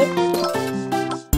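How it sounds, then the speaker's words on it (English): A mobile phone ringing with a bright, melodic chime tune of several tinkling notes, loud and close, with no talk over it. "Hear my phone going off."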